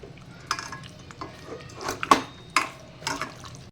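Chicken being mixed with ginger garlic paste in a bowl: a few close, soft wet squelches and clinks of a utensil against the bowl in an uneven rhythm, with no talk.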